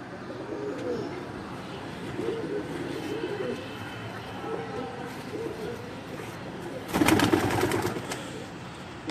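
Pigeons coo in low, rolling calls beneath a voice, moderately close, followed by a short burst of wing flapping.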